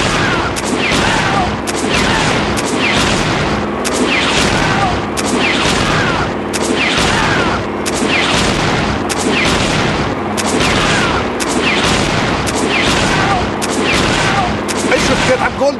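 Continuous loud gunfire from The Dictator Wadiyan Games on iPad, rapid repeated shots and booms forming a steady fusillade throughout, with no pause.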